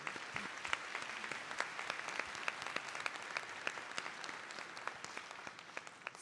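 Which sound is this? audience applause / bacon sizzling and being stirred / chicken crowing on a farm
audience applause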